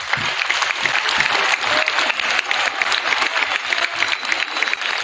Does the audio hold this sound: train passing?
no